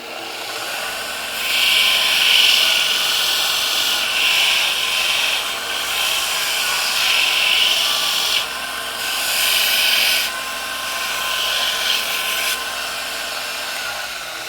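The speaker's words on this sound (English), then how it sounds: "I'm going to move over to my belt sander and just" Belt sander softening the cut edges of a trimmed Easyboot Fury Heart hoof boot after bandsaw cutting, a steady close whir rising into several louder grinding passes as the boot is pressed to the belt, with no talk.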